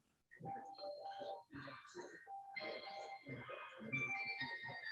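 Music from The Exorcist plays as a faint, tinkling bell-like melody of repeating chimed notes, quiet and slightly distant in a garage, with voices chatting over it.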